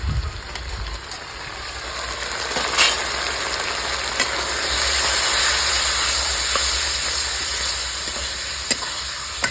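Ground turmeric, cumin, coriander and chili spices frying in hot oil for a rohu fish curry with cauliflower and potato, a steady sizzling hiss with occasional stirring scrapes and clinks, with no voices.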